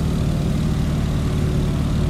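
A Stearman biplane's radial engine and propeller drone at cruise power, 85% throttle and 1900 RPM, in Microsoft Flight: a steady, loud low rumble with a faint pulsing beat, unbroken and without voices.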